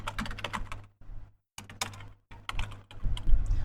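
Bursts of rapid clicking keystrokes on a computer keyboard while entering a password, short clustered taps separated by brief pauses, near and clear.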